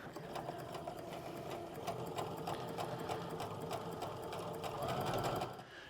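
A sewing machine runs steadily and close by, stitching a continuous chain of half square triangle quilt pieces with an even mechanical whir that rises slightly near the end.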